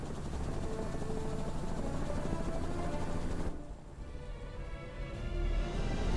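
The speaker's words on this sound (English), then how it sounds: "Another helicopter." Helicopter in the Marvel's Spider-Man video game, a steady loud rotor-and-engine drone that drops away briefly midway and then swells back, with gunfire-like rattle mixed in.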